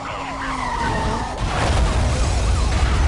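A car drifts sideways with sustained tire squeal and skidding in Need for Speed Most Wanted (2005), engine roar swelling as the slide continues loudly to the end.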